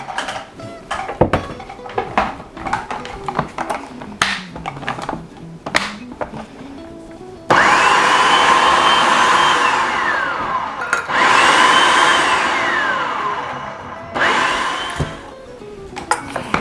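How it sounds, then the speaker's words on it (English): A kitchen blender whirs as it blends watermelon with lemon juice. After some clinking and handling it starts up in loud, close bursts, and the motor pitch rises and falls as the fruit breaks down, with pauses between pulses. "And then we're going to blend, blend, blend."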